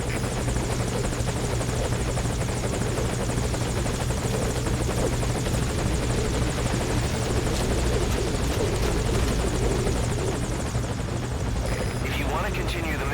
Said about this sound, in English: How do I make the helicopter go away?